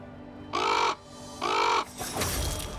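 A crow in the video game Soulstice gives two loud, drawn-out harsh caws with a short gap between them, followed by softer rustling game ambience and no speech.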